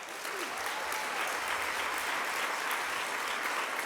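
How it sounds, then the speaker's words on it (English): A conference audience applauds a keynote address, a dense even burst of many hands clapping at steady volume from start to finish. "Give yourselves a round of applause."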